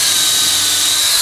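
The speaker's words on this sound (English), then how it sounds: "drill a hole" A power drill whines steadily at high speed while drilling a hole through a greenhouse hoop, a loud continuous buzzing with no pauses, close by and alone.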